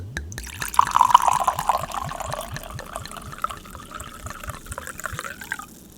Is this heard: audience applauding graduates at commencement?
no